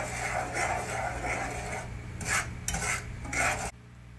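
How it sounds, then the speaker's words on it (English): Butter and brown sugar melting in a saucepan, stirred with a utensil: rhythmic scraping strokes over a soft sizzle, close and moderately loud, stopping abruptly near the end. "So in my saucepan, I have the butter and the brown sugar melting."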